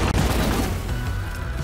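Automatic Subata pistol fire in the video game Deep Rock Galactic, a loud, close burst of rapid gunshots running together at the start and then thinning into a dense rumble.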